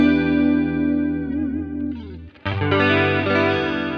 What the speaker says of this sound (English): A chorus here on the left side